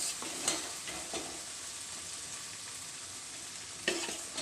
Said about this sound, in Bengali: মশলা কষানো হয়ে গেছে, এবার না আলু দিয়ে দেবো।